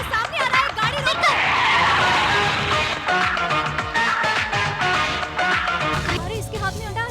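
A car brakes hard with a long, loud tire squeal and skid, close up, while voices talk over it.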